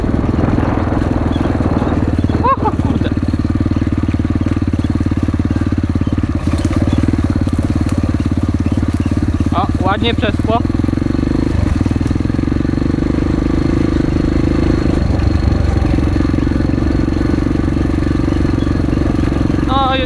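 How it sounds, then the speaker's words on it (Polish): A strong-torque four-stroke engine on a mower runs steadily and loudly through tall nettle-filled growth, its drone holding throughout with brief load changes, while a man exclaims now and then over it. "Jest to silnik czterosuwowy o bardzo mocnym dolnym momencie obrotowym."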